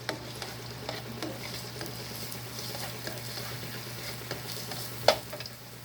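Garlic sautés in a pan for a pork lumpia filling, a continuous moderate sizzle with light spatula scrapes and a sharper knock near the end, no talking.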